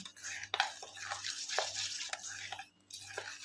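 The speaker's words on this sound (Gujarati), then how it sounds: "હવે આપણે આ મિશ્રણને બરાબર મિક્સ કરી લેવાનું છે" A spoon works through chocolate cake batter in a pot for a stovetop cake made without an oven, producing quiet intermittent scraping strokes and small clinks against the pot's side, close and soft.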